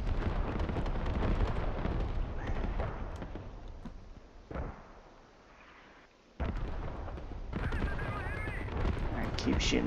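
Sustained video game gunfire aimed at an enemy HAB, heard as dense, loud rattling bursts with booming explosions, a brief lull, then firing resumes at full intensity.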